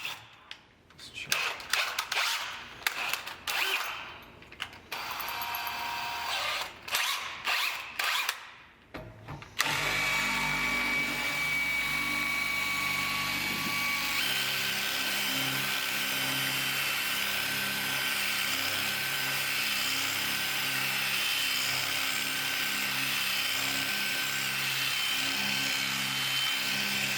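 A power drill bores an angled hole into a wall for floating glass shelves, starting with intermittent stuttering bursts and then settling into a long continuous whirring grind, close by.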